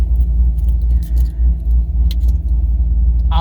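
A 2013 Chevrolet Camaro SS convertible with a new Borla S-Type exhaust idles steadily, a deep, even rumble heard from a short distance with faint jingling and a brief high hiss near the end.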